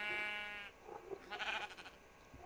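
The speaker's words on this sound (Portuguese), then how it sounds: "Uma ovelha." A sheep in Minecraft bleats, a harmonic wavering call followed by a second shorter bleat and some game ambience, moderately quiet.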